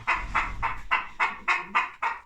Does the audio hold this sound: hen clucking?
yes